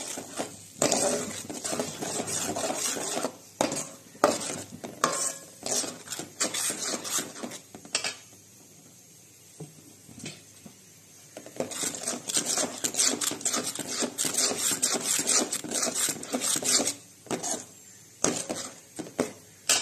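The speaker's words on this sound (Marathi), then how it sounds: "एक 2 मिनिटं परतून घेऊया. मसाला तेल कसं सुटलंय मला." Ground masala paste being sautéed in oil for a gravy, close clattering of a spatula against the pan with sizzling in irregular bursts, a quieter stretch midway, no speech.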